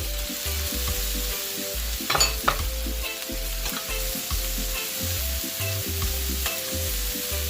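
Onion frying in oil in a pan, a steady close sizzle with periodic scraping and stirring strokes, one sharper clatter partway through, no voices.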